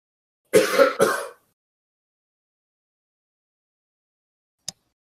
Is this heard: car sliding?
no